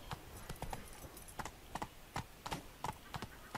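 In The Witcher 3 video game, a horse's hooves clip-clop in a quick, uneven rhythm of sharp, moderately close knocks as it rides out of town, a dozen or so strikes over a few seconds.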